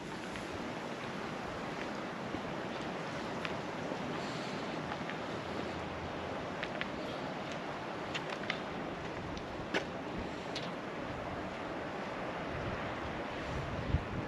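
Steady surf rolls in at a small, quiet beach beside a concession stand and a pier, as a continuous broadband wash with wind buffeting the microphone and a few faint clicks, and no one talking.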